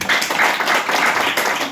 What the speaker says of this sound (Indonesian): Berikan tepukan untuk kalian.